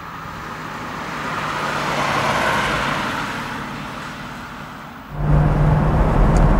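A 1971 Mercedes 280 SE 3.5 Coupé, W111 body, runs steadily with a smooth, even engine drone that rises gently, eases off, then jumps to a louder, deeper hum near the end, with no talking over it.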